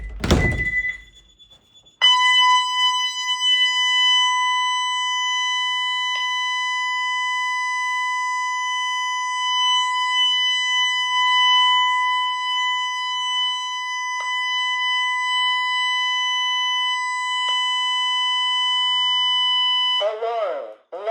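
A home security system sounds a loud, steady electronic alarm tone for about eighteen seconds after a thunk as the left bedroom door opens, with faint clicks partway through and a spoken panel announcement at the end.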